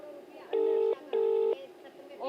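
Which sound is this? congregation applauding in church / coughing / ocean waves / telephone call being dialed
telephone call being dialed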